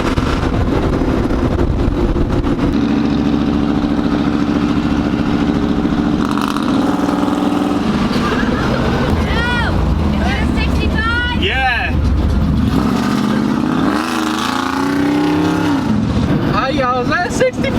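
A 1965 Ford Mustang's engine runs and revs on a test drive, then sputters and cuts out as it breaks down, close and loud, with people talking over it.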